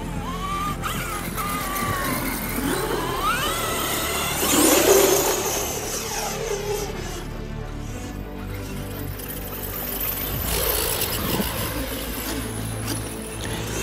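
A Losi DBXLE 8S 1/5 scale RC car with rear sand paddle tires runs across heavy sand dunes. Its engine buzzes and revs steadily throughout, with a stronger surge near the middle and no voices over it.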